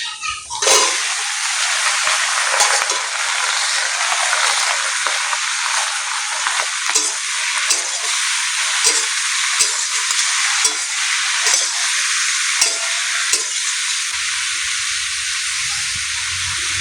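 Taro and potatoes frying with browned onions in a hot pan give a loud, steady sizzle that runs the whole time, with occasional stirring scrapes and a brief drop in intensity near the end.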